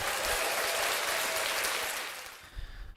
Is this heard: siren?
no